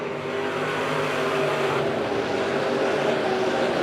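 Race cars roar around the oval at Monett Motor Speedway, a continuous loud engine drone with mixed pitches from several cars running close together, steady and unbroken throughout.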